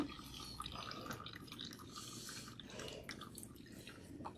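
Water drips and trickles while hair is rinsed, a soft continuous wet spatter with small splashes, quiet and close, no one talking.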